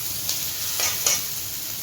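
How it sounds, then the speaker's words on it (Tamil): Curry leaves crackling in hot oil for tomato rice, a steady close hiss with two or three brief sharper spits and pops. "அப்புறம் கருவேப்பிலை ஆட் பண்ணிக்கோங்க."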